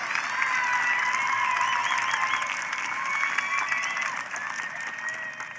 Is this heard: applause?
yes